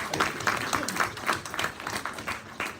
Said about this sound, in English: So we should like to give one big clap to both of them.